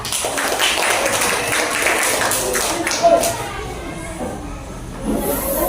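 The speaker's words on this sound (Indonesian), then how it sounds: "Silakan tepuk tangan." A class of students claps after a group presentation, scattered fairly soft applause that tapers off and then swells briefly, with some talking mixed in.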